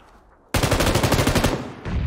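A rapid, loud burst of submachine gun fire in PUBG (PlayerUnknown's Battlegrounds) that starts abruptly and rattles steadily for over a second, followed by a brief pause and a softer tail.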